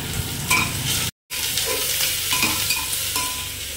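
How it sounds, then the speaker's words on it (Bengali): Meat being braised and stirred in a pan with salt and turmeric, a loud close sizzle with repeated scraping stirs and one brief dropout partway through. "তো জাস্ট লবণ আর হলুদ দিয়ে এখন আমি মাংসটা কষতে থাকবো।"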